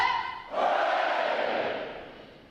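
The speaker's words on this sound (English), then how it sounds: "The adjutant will lead all graduating division in 3 cheers for this morning's award recipients." Navy graduating sailors at a boot camp graduation ceremony roar a loud, sustained group cheer, preceded by a short shouted call, the massed voices swelling then gradually trailing off.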